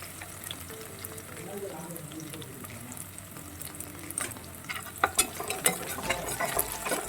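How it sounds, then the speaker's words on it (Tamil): Tomatoes sautéing in a pan for drumstick sambar, a faint steady sizzle at first, then clattering stirs and crackling that grow louder near the end, close by. "அப்புறம் வந்து நம்ம தக்காளி சேர்த்துக்கலாம்."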